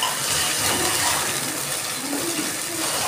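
Water pours steadily into a pan of ground spice paste for a Bengali hilsa fish and snake gourd curry, a continuous close splashing gush that holds at an even level without pause.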